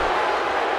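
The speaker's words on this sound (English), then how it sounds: "Would you listen to this crowd show their appreciation for these amazing competitors?" A steady, dense roar from a wrestling arena crowd in the WWE 2K15 video game, loud and continuous with no individual voices standing out and no talk over it.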